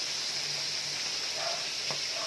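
Oil sizzles and hisses steadily at a moderate level as kuwaw (dilat) fish fries, with soft pops and crackles and no voices.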